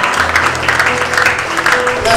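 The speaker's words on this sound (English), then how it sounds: "Give God a clap." A church congregation claps together at an evangelism, healing and miracles crusade, a dense, steady wash of many hands that runs the whole time beneath a speaking voice.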